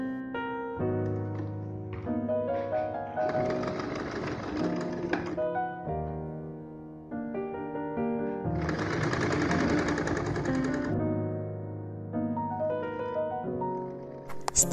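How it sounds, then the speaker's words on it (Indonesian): A sewing machine stitches fabric pleats on a kimono blouse, making a close, steady mechanical whirr with rapid needle chatter that runs in two longer bursts, separated by quieter stretches of the motor humming. "Lipit seperti ini, kita tinggal jahit."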